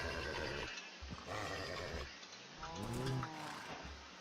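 A horse whinnies and snorts while being mounted and tamed in Minecraft, a few close, loud neighing calls with a rising squeal near the middle, heard alone.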